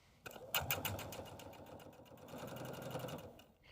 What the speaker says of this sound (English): you're going to top stitch all the way around your bag